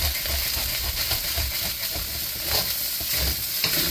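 Beef fried rice sizzles steadily in a hot pan, a continuous frying hiss broken by regular scraping and stirring strokes, close and loud with no talking.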